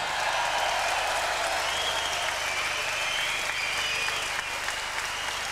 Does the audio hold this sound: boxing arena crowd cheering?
yes